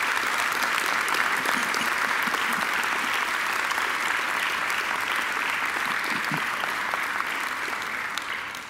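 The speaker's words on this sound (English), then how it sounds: "she deserves another great round of applause for a great occasional address" Sustained audience applause at a Macquarie University graduation ceremony, a dense, steady wash of clapping from a large crowd that holds evenly throughout.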